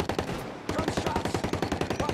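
Gunfire in the video game Ghost Recon Breakpoint: loud, rapid automatic bursts with a steady rhythmic cadence, briefly pausing before continuing as a dense stream of shots.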